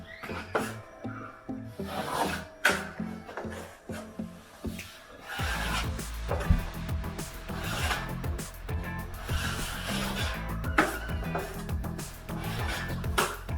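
A 3-inch taping knife scrapes and slaps while drywall joint compound is loaded onto both sides, giving irregular close rasping strokes and soft wet smacks with no voices.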